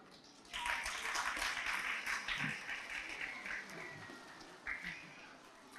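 A hall audience applauds at a 2022 graduation ceremony at the Sutuq Bughrakhan education center: a faint burst of clapping starts suddenly, holds for a few seconds and then fades, with a brief spatter afterward.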